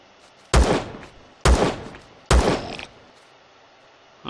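Three loud, heavy gunshots ring out in the Empyrion Galactic Survival video game, spaced about a second apart, each with a short decaying tail.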